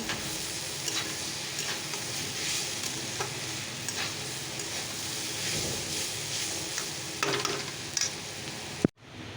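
Fish chochchori cooking in a pan, with a steady oily sizzle and repeated scraping stir strokes throughout, close and moderately loud, ending in a sharp knock just before a sudden drop to near silence.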